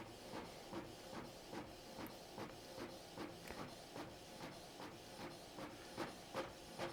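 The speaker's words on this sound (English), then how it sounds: "the second printout is coming out already" Canon Pixma MG7550 inkjet printer printing a page, a quiet rhythmic series of soft mechanical clicks and whirs repeating at a steady pace under faint hiss.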